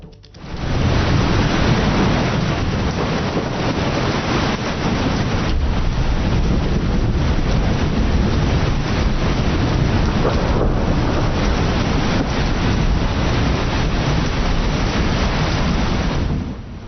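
A dense, roaring wash of heavy monsoon rain in Ratnagiri, Konkan, India, pours nonstop, loud and even throughout, with a rumbling low-end like wind buffeting the microphone.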